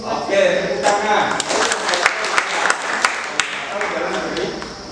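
Classroom applause, a burst of clapping from many hands that holds steady for several seconds, with sharp individual claps standing out and voices heard under it.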